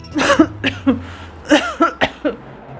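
A woman coughing in a house while ill, a run of about seven harsh, close coughs in two uneven clusters separated by brief pauses, loud and dry with no speech.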